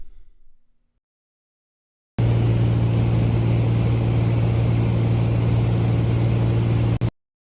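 A small propeller plane drones steadily overhead above the Brooks Range in Alaska, a loud, even engine hum that cuts in abruptly and holds for about five seconds before stopping, with no voices.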